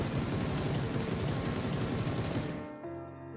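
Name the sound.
Beryl M762 assault rifle spray firing at a wall, PUBG video game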